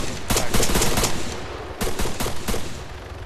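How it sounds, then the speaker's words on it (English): Squad gunfire in the video game ARMA 3, with dense automatic weapon bursts crackling in two loud clusters, rapid overlapping shots, briefly pausing between volleys. "All the while we're laying down fire"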